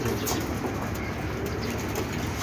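Pigeons cooing outside in a loft area, a steady dense texture of low murmuring coos filling the short clip, fairly close and continuous with no talk.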